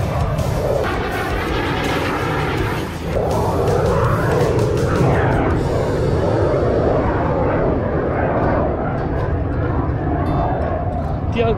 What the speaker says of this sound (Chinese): 可以看到超多就是空军的飞机在那边一直飞